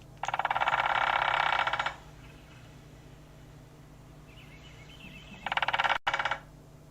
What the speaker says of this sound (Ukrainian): Це у нас дятел.